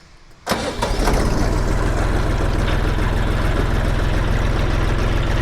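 A Jinma 3244HS tractor's diesel engine cranks and catches after a quiet moment, then settles into a loud, steady, throbbing idle close by.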